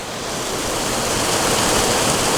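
Steady, loud rushing of river water flowing around a campsite in the middle of the river, a dense continuous wash with no voices.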